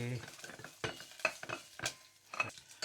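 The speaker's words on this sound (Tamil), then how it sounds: "இதெல்லாம் போட்டு நல்ல வடிவாக வறுத்தாச்சா வறுத்து கொண்டு இருக்குது" Cashews and curry leaves frying in a pan, with quiet sizzling and several sharp spoon scrapes and knocks against the pan at an irregular rhythm, close but soft.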